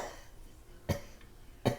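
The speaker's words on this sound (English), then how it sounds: "All she does is cough." A woman coughs indoors, two short sharp coughs roughly a second apart, close and fairly quiet against a faint background.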